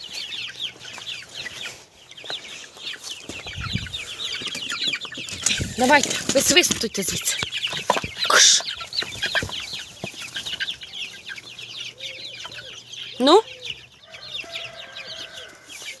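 Young chickens on a village farm cluck and cheep in a busy, overlapping chorus close by, with occasional louder squawks and wing flutters, while someone talks and shoos them.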